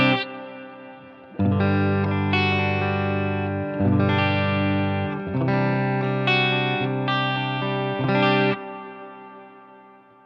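Guitar played through a Wampler Ethereal reverb/delay pedal with the tone turned down: several sustained strummed chords ring out in turn, each with a lingering reverb tail, loud and alone.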